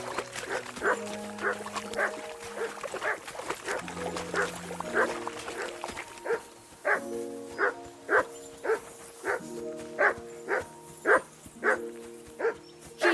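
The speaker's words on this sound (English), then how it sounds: "Jesus, Henry, that barking's driving me nuts!" A dog in the medieval video game Kingdom Come Deliverance 2 barks over and over in a steady, insistent rhythm, close and fairly loud, with quick repeated woofs continuing for the whole stretch.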